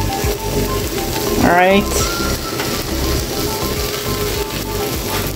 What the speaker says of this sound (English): when you hear a sizzle like that, that's a good sign.